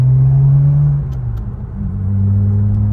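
A BMW sports car engine rumbles close by, a deep low idle that swells and dips slightly as the revs shift.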